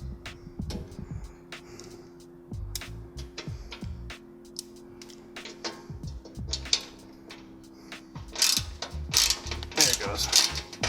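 Ratchet wrench tightening skid plate bolts on a 1992–99 Mitsubishi Montero in a garage, bursts of rapid clicking strokes with pauses and metallic clunks between, close up, growing louder toward the end, no talk.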